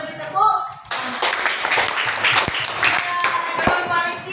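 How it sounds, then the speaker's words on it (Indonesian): A classroom of students claps for a student group after their presentation on marine ecosystems. Brisk, close applause bursts in just under a second in and continues unevenly with some scattered voices. "Kita beri tepuk"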